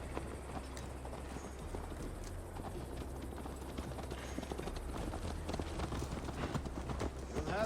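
Horse hooves clip-clopping at a steady riding pace in the Assassin's Creed Valhalla game, a continuous rhythmic gait over a low ambient hum, growing slightly louder and busier toward the end.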